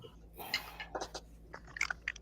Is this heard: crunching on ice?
yes